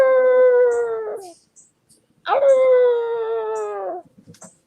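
A dog howls in two long, sustained wails, the first fading out and a second, louder one rising sharply then sliding down, close to the listener with a brief pause between.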